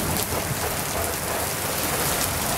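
Steady rain falls hard and close during an orange-skied lightning storm, a dense continuous hiss with no voices.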